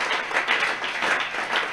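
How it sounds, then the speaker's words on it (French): A church congregation applauds during a prayer and teaching service, with continuous moderate clapping from many hands in a reverberant hall and no clear talk. "Betela ye maboko makasi."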